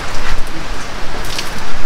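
Steady rain during a storm, a dense broadband hiss heard from inside a garage, continuous and fairly loud for the whole stretch with no voices over it.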